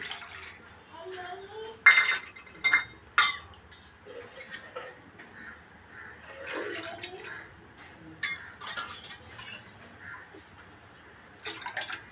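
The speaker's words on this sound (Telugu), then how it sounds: "ఇదిగోండి ఈ కప్తో 4 కప్పులు నీళ్ళు పోస్తున్నానండి." Water is poured from a cup into a metal pot in a home kitchen, four cupfuls for a millet porridge, giving splashy pours and clinks of the cup against the pot in separate bursts, with quiet gaps in between.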